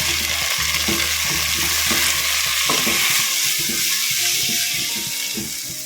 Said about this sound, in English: Once the onions are nicely cooked, we're going to add in our tomatoes.